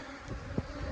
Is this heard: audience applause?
no